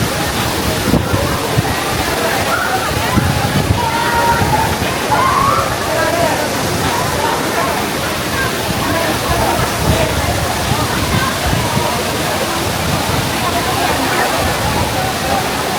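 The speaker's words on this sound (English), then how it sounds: "all the waterfalls in the north of India come from the Himalayas" Cold Himalayan meltwater pours down a waterfall at Bir Billing in northern India, a loud, continuous rushing and sloshing roar heard close by for the whole stretch, with someone talking over it in places.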